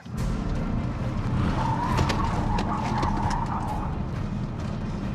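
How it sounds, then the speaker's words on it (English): A car swerves at about 60 km/h during a driving test, its tires skidding in one loud, sustained squeal that lasts several seconds, with engine and road noise underneath and no talking. "watch how the car does that swerve so much differently with just 10 kilometers an hour difference in speed"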